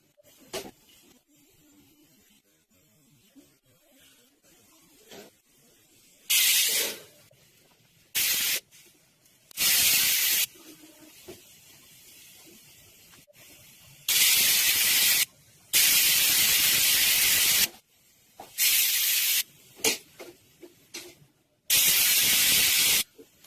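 Onion roasting in a pan for a drumstick curry, heard as loud bursts of sizzling hiss that start and stop abruptly several times over a quieter background, with no talk.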